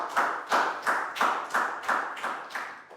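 A Year 4 maths class clapping in unison, about eight sharp evenly spaced claps in a steady chant-like rhythm, close and fairly loud with no talk over it.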